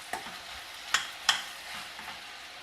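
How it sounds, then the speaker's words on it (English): A spoon scrapes and stirs tendli with hing, haldi and salt in a pan. There are a few sharp clinks and soft scrapes over a faint background hiss, and no talk. "Mix everything well together."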